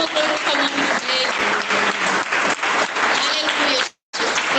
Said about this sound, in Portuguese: Mas palmas para o nome de Deus.